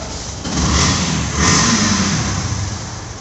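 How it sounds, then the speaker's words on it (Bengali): A motorcycle engine at a used-bike market starts up and runs with loud, close, rough revving that swells twice before settling to a steady drone, no talking. "স্টার্ট দেই, দেখছেন টুকাই টুকাই স্টার্ট।"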